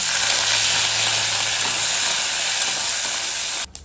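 Curry leaves hit hot tempering oil that already holds chana dal, urad dal and dried red chillies, raising a loud, dense, hissing sizzle that stays steady until it cuts off abruptly near the end.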